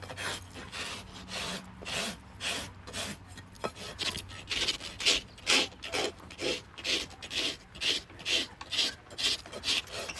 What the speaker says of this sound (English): Brand new rasp, sharp.